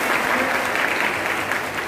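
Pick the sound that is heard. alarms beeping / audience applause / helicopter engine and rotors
audience applause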